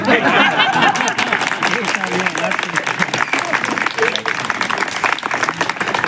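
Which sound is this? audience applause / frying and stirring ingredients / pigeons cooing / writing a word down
audience applause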